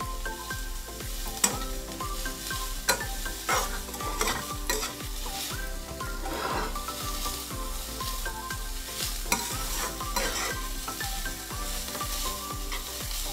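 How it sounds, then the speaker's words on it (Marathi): Spring roll vegetable stuffing stirred in a pan over a high flame: a constant hiss of sizzling under rhythmic scraping and clacks of the spoon against the pan, close and steady throughout. "म्हणून आपण तो गॅस मोठा करायचा आणि सतत हलवत राहायचं"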